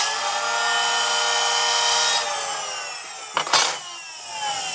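Drill press cutting into a sword hilt in a workshop, a loud, steady high whine that cuts off after about two seconds, followed by a couple of short grinding bursts.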